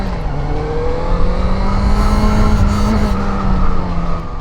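Stock-exhaust four-cylinder motorcycle engine pulling uphill, loud and close, its low, rich drone rising steadily through the revs and holding for several seconds.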